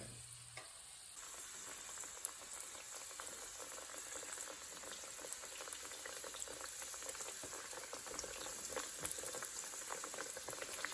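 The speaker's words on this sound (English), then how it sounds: "All right, the oil's hot enough. The garlic is frying. Now I'm going to go ahead and put the eggplant in." Steady, dense sizzling of eggplant frying in hot oil with garlic, a continuous crackling hiss with no talking.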